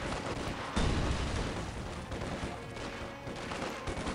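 Infantry gunfire in the Company of Heroes 2 video game, dense overlapping rifle and machine-gun bursts with a heavier blast near the start, continuous and loud throughout.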